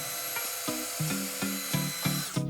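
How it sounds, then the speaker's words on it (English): Power drill boring pilot holes to mount an outdoor spigot, with a high whine broken by short repeated bursts in a steady rhythm, close and moderately loud. "drill pilot holes"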